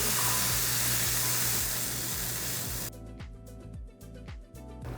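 Soy sauce and garlic sizzle loudly in a hot pan, a dense hiss that cuts off partway and gives way to quieter, intermittent crackles and stirring knocks.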